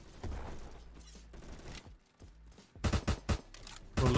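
Honey Badger rifle fire in the Roblox shooter Bad Business: quiet scattered shots early, then a louder rapid burst of close gunfire near the end, with no voices.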